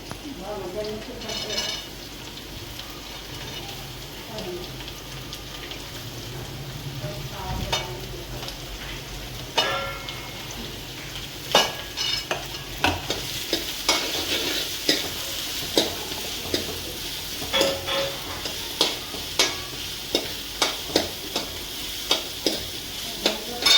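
Onions and curry leaves fry in oil in a pan for a green banana curry, with a steady sizzle and a run of sharp spoon scrapes and clinks that grows busier and more rhythmic toward the end. A voice speaks softly now and then.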